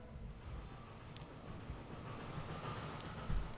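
A train pulling into a station in Transport Fever 2, a low, quiet rumble of rolling wagons with faint rail clanks, steady and distant.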